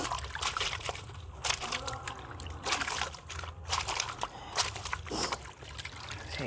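Clothes are washed by hand in a bucket, with splashing, sloshing and dripping as the wet garments are squeezed out, irregular and close.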